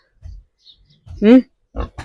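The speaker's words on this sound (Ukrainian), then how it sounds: "Це порося." A piglet in a village farm pen gives a few short, close grunts, separated by brief pauses, with a voice nearby.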